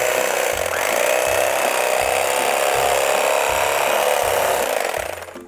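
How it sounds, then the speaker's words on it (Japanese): A Cuisinart CEK-30J electric knife slices through a tomato, giving a steady, loud motorized buzz with a rasping blade that runs continuously for about five seconds before trailing off at the end. "食材にナイフを当てて、そこからスイッチを押す。"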